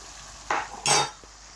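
Two quick scraping strokes of a spoon stirring onions and spices in hot oil with salt, a brief sizzling swish each time, close and fairly clear against a low background.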